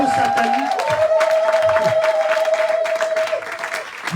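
A church congregation at a Sunday worship service cheers and applauds loudly and continuously, a broad wash of clapping and shouting with a sustained sung or shouted voice rising above the crowd throughout.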